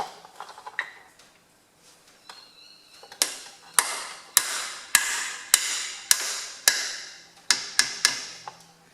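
A small hammer strikes metal on a Ferguson FE35 tractor during restoration of its rear PTO bearing and seal, about a dozen sharp ringing blows at an uneven pace after some quieter handling clatter.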